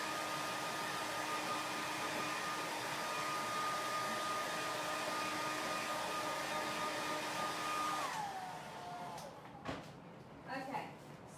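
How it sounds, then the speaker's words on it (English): Hair dryer blowing steadily on a door hanger with a loud, constant whirring roar for about eight seconds before it winds down and switches off, followed by faint handling clicks and a bit of talk. "I'm going to hit it with the hairdryer"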